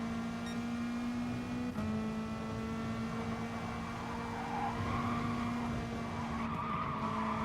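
Race car tyres lose grip and squeal in GT Sport, a steady high engine drone with a sustained skidding whine running under it, fairly quiet and unbroken, with no voices.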